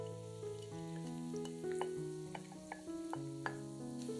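Chopped onion frying in vegetable oil in a pan, a steady crackling sizzle beneath loud background music, with small pops scattered through.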